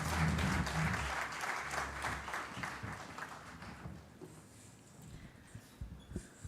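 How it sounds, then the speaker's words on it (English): An audience at a hospital robotics centre launch applauds warmly to welcome a speaker, dense clapping strongest at first and then thinning into scattered claps. "please join me in giving a warm welcome and round of applause"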